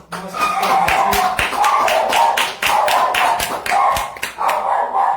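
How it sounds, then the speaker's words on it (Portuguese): A congregation at Catholic Mass clapping together, a dense crowd of hands striking in a lively rhythm, loud and sustained for several seconds. "Vamos aplaudir a palavra de Deus com força"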